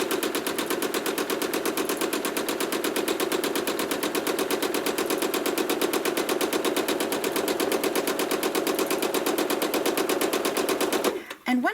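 A sewing machine running fast while stitching freehand feathers on an appliqué quilt background, a rapid steady needle chatter sustained for about eleven seconds before stopping abruptly.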